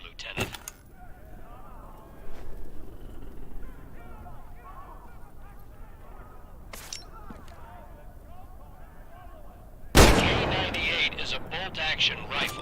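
A K98 bolt-action rifle firing in the Medal of Honor VR shooter, one loud, abrupt shot late in the clip after a long quiet stretch with faint clicks and background game sounds.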